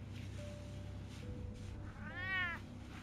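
A cat meows once in the Batman Telltale Series video game, a rising and falling harmonic cry near the end, heard over a steady low background hum with no talking.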